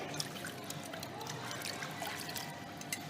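Steady running water trickling and pouring as dishes are rinsed while washing up, a continuous close splashing stream with no talk.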